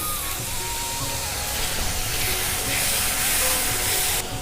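A splash of water poured into a hot pan of spicy masala mushrooms cooking Bengali style sends up a loud, continuous steamy hiss that holds steady and swells slightly toward the end.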